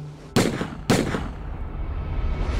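Two sharp gunshots in a crime reenactment, about half a second apart, loud and close, each followed by a booming reverberant tail that fades slowly, with no talk.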